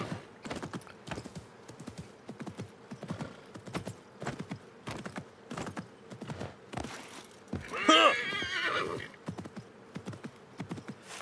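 Horse hooves clip-clopping in a steady rhythm in Assassin's Creed Mirage, with a short neigh partway through, fairly close and moderately loud, with some talk around it.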